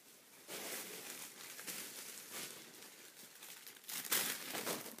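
Tissue paper is handled and crinkled at close range. The rustling comes in soft, irregular bursts with a brighter crackle near the end, and no one speaks.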